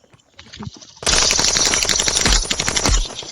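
Rapid automatic gunfire from the mobile shooter game Standoff 2 bursts in after a second of quieter sounds, a loud, dense, continuous rattle lasting over two seconds.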